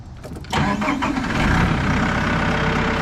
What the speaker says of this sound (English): So we're gonna start the tractor here.